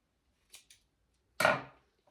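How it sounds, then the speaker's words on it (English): Two quick, faint snips followed by a louder, sharper cut as scissors slice through craft yarn at a wood heart project, close and isolated with no talking. "I'm going to cut my yarn,"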